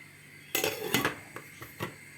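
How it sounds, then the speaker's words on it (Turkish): A metallic clank and rattle as a lid is lifted from a pot, followed by a few lighter clinks. "tenceremin kapağını çıkarmamışım"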